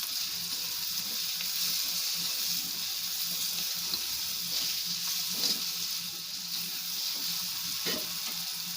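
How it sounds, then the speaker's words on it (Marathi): Chopped tomatoes frying in hot oil for a Malvani-style bhindi bhaji, a steady close sizzle running throughout with a few soft stirring scrapes and no talking. "टोमॅटो सुद्धा आपण तेलात भाजून घेऊया।"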